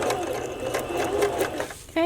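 A sewing machine zigzag-stitches cut-and-sew foam for a bra, giving a close, continuous rapid chatter that ends abruptly just before a voice starts speaking.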